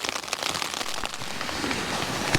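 Rain pours steadily on a tent during wild camping in the English high country as bad weather rolls in, a dense close patter of drops with scattered louder taps.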